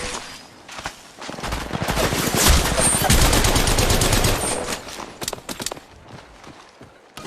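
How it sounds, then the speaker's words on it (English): Automatic weapon gunfire in Apex Legends Mobile, long rapid bursts of loud shots rattling for several seconds, trailing off into scattered single shots, with faint game voice lines underneath. "Opening fire."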